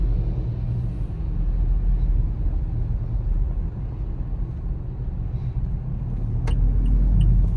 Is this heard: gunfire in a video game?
no